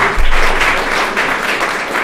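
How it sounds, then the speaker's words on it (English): Brief round of applause from an audience at a live lounge show, a loud burst of close, dense clapping that holds steady for a couple of seconds. "Give them a round of applause"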